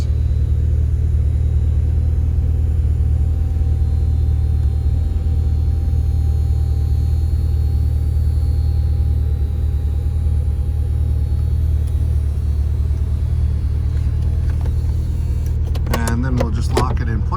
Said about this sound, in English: we'll put the convertible top up so you can see the operation